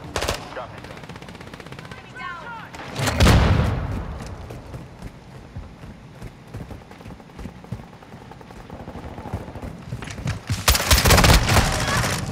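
Call of Duty: Modern Warfare II Domination match: rapid automatic gunfire and single shots crackle in loud bursts, with heavy blasts near the start and end, while a player talks excitedly in between.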